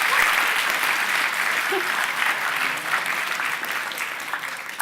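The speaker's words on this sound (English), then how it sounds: "a big round of applause for helping me with that demo" Sustained audience applause after a particle accelerator demonstration, a dense wash of clapping at fairly even strength, with a brief spoken word at the end.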